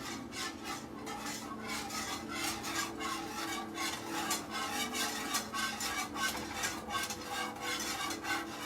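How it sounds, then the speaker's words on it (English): A whisk rasps and scrapes steadily through hot homemade teriyaki sauce in a pot while xanthan gum is sprinkled in, a close, continuous rhythmic scratching with no talking. "I'm gonna start whisking it and just slowly sprinkling in some xanthan."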